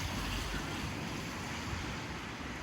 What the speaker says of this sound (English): You see the water flowing.